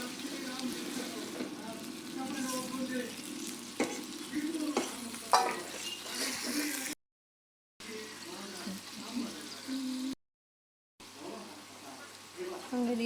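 Poya fish sizzling in a pan with dried chillies, a soft continuous frying crackle broken by stirring scrapes and clinks, with someone talking over it and two short silent gaps.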